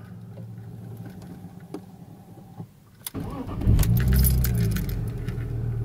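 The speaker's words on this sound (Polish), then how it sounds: "Dobra, chwila prawdy, przekręcamy kluczyk." Keys jingle softly in a quiet BMW E46 with a remapped ECU and fluctuating idle, then the engine cranks and roars to life, settling into a loud, steady idle.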